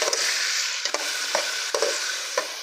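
Vegetables, ginger, garlic and green chillies frying together in ghee, a loud, steady sizzle close up, punctuated by a few soft stirring knocks from a spoon, with no speech.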